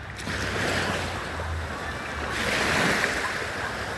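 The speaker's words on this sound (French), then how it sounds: "Quand tu arrives, il y a toujours des vagues." Ocean waves break steadily on a beach at the end of summer, a continuous loud wash of surf with wind buffeting the microphone.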